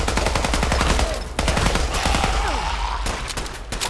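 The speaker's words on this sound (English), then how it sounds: "Shot Bobby in the butt" Gunfire from the Fallout 4 video game: loud rapid bursts of automatic shots rattle almost without pause, broken by a couple of brief gaps.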